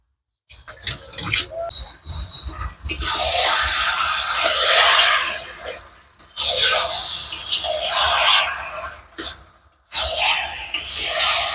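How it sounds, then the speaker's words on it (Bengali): Running water splashes over hands being washed at a kitchen tap during meat preparation. The stream is loud and close, with broken bursts and short pauses as the hands move through the flow. "হাতটা আগে ধুয়ে নিই।"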